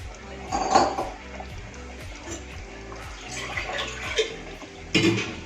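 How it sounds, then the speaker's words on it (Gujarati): Water is poured into a pan of simmering taro (arvi) curry in a home kitchen, with soft splashing, a couple of louder pot and utensil clinks, and quiet background clatter. "થોડું આપણે આમાં પાણી એડ કરીશું."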